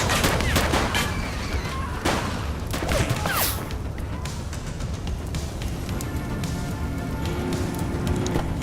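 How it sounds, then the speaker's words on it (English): Gunfire erupts in The Precinct, with sharp rapid shots cracking out in irregular bursts over a constant rumbling backdrop, loud and close at first and then scattered through the rest of the stretch. "Someone's shooting at us!"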